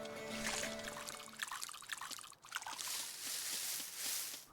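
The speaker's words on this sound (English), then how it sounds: "Let me go fill up my can." Water trickling and pouring as a watering can is filled in the Cattle Country game, a soft steady splashing stream, fairly faint, after a brief musical tone.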